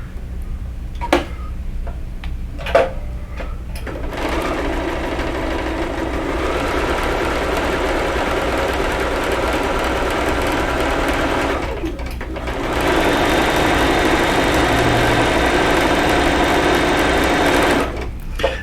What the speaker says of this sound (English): sew these 2 seams on